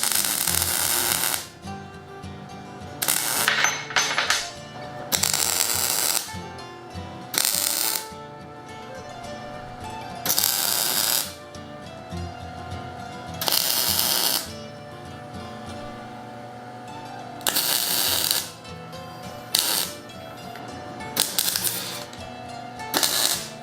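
Welding metal pieces for an Inukshuk chess set: bursts of crackling, hissing arc noise of a few seconds each, separated by short pauses over a steady background of music.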